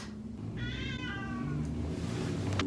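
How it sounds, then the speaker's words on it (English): A house cat gives one drawn-out, wavering meow, fairly faint against a steady background rumble, followed by a couple of short clicks. "go away, cat"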